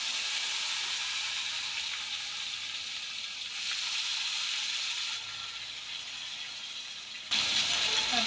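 Black cumin and chopped tomato sizzle in hot frying oil, a steady bright hiss that holds throughout and swells louder near the end as more goes into the pan.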